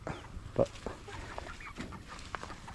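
Rhode Island chickens in a backyard flock clucking softly, scattered short clucks at moderate distance with faint background noise.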